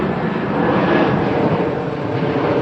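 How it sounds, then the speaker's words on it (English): An airplane flies overhead, a loud, steady broadband engine roar that fills the whole stretch with no break and no speech. "sorry about that plane overhead"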